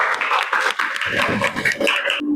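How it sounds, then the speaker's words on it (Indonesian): A class of schoolchildren clapping their hands together in a classroom, a brief, busy burst of close claps with voices chanting along. "Tepuk tangan dulu"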